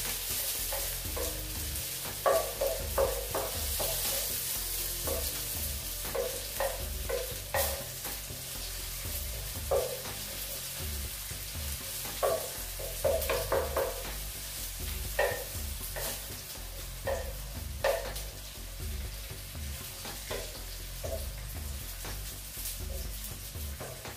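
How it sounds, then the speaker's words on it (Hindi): Chopped onions frying and browning in a pan for butter chicken, a soft continuous sizzle broken by repeated scraping stir strokes at an irregular rhythm, close and fairly quiet, with no voices. "प्याज डालें, प्याज को ब्राउन होने के"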